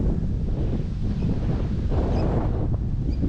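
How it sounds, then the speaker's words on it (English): Steady, heavy wind roar of 42 km/h winds buffets the microphone throughout, a loud low rumble with gusting surges and no voices. "Still very windy here. It's 42k winds today, everywhere."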